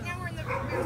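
Sled dogs bark and yip among a crowd at the start area before a sled dog race, several short, excited barks heard under nearby chatter and general hubbub.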